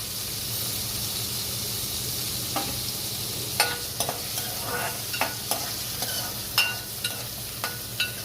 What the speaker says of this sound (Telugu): పన్నీర్ పీసెస్ తీసుకున్నాను ఇవి కూడా అలానే కొంచెం ఫ్రై చేసుకోవాలి